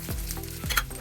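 Peas frying in a pan give a short burst of sizzling with a couple of quick scrapes of a spoon, close and brief, no voices.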